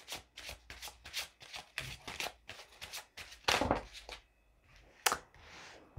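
Tarot cards riffle in a quick run of crisp shuffles, followed by a couple of sharper slaps as the deck is squared, close and fairly quiet.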